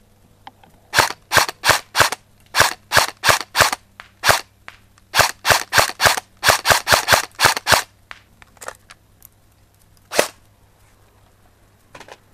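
An A&K ACR Masada airsoft replica fires on an 11-volt battery, sending out sharp snapping shots in quick bursts of several rounds, then a couple of isolated shots after a pause.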